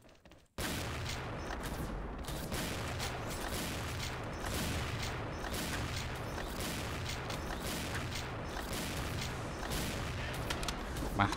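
Sniper rifle gunshots in a Thai shooting video game sound as a sustained barrage of loud cracks and booms, layered over continuous dense battle noise after a brief quiet start.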